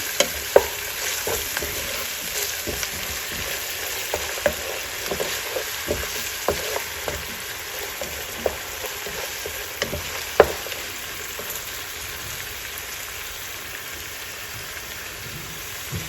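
Salmon biryani ingredients cooking in a pan on medium heat, a continuous soft sizzle with scattered sharp clicks and scrapes from stirring, close and moderately quiet.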